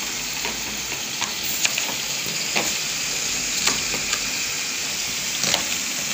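Chiles de árbol and garlic cloves roast in a pan with a steady close sizzle, punctuated by occasional scraping clicks as they are stirred, no talking.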